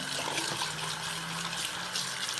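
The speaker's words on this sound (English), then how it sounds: "So we use nice warm water, wipe it all down, make sure everything's wiped out." Warm tap water running steadily into a sink while a breast pump part is rinsed, a soft continuous splashing hiss that stays even and quiet throughout.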